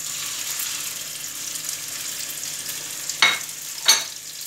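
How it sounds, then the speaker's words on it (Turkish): Steady hiss of chicken frying in oil in a pan, with two brief louder crackling bursts near the end as the chicken is stirred or moved. "Sıvı yağımızı tavamıza ekliyoruz. Tavuklarımızı kızartmak için."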